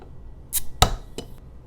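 A can of Festbier cracked open with a sharp hiss and snap, followed by brief pouring and fizzing, all close and loud in a quiet room.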